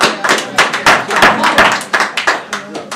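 Audience at a city council meeting clapping in a short uneven burst, a handful of close hands striking loud separate claps, with a voice briefly underneath.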